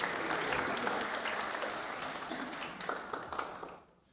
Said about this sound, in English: Let's give Rob a round of applause.